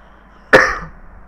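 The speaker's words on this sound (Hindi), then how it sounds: "सॉरी खांसी मुझे लगी है" A single sharp, loud cough from a man close to the microphone, trailing off quickly into quiet room tone.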